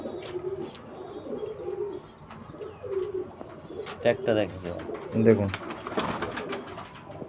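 Royal Teddy fancy pigeons, pink-beaked and slender, coo in repeated soft throaty bursts close by, while someone talks at intervals over them.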